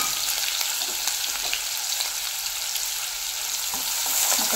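Chopped onion fries in a pan as the first step of egg bhurji in a home kitchen, giving a steady, bright hiss of oil sizzle with faint stirring clicks, close and continuous.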